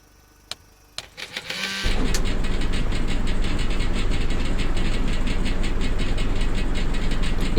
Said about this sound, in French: mais déjà ça fait un bruit de tracteur quand tu démarres